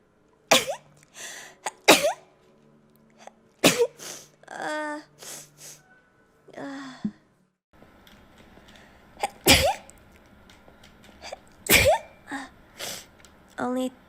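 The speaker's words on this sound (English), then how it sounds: "I'm gonna sneeze." A woman sneezes repeatedly, several sharp bursts spread across the stretch with pauses between, loud and close, mixed with her short spoken remarks.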